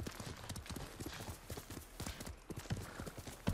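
Horse hooves clip-clopping steadily in the Ghost of Tsushima video game, a brisk, continuous galloping rhythm close up and fairly loud, with game ambience underneath.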